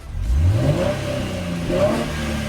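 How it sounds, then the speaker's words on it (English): A six-cylinder Chevrolet Camaro with a manual transmission revs up sharply with a rising exhaust roar, eases off, then revs again more briefly, loud and close. "if you want to hear some exhaust"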